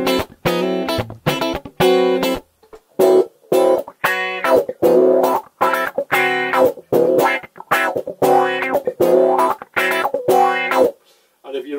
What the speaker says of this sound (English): This is just my straight guitar at the moment.